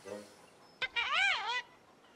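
Cartoon bird calls, a sharp click followed by a loud warbling, honking gobble that rises and falls for under a second, heard alone against quiet background.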